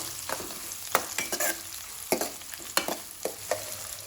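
Chopped onion fries in a pan while being stirred, a soft continuous sizzle punctuated by repeated scraping clinks of the spoon against the pan at irregular intervals.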